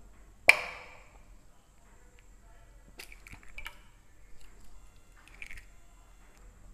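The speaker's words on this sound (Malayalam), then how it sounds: "ഇതിലേക്ക് ഓരോ മുട്ട ഉടച്ച് വയ്ക്കാം." Eggs are cracked one at a time into milk in a bowl for bread pudding, giving a sharp close crack followed by a few softer taps and wet shell sounds in a quiet kitchen.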